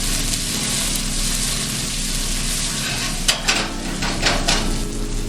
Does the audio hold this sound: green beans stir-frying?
yes